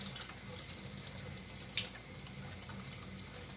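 Water runs from a tap into a sink in a steady, quiet, continuous splashing stream, with no talking over it.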